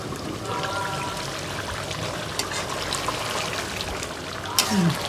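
Water pours steadily into a pot of braised goat meat curry, a continuous close splashing stream that ends with a brief louder gush.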